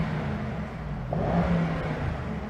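A Mercedes E63 S engine revs with its exhaust in the loudest setting, a steady, throaty growl that swells briefly in the middle before settling, heard close with no talk.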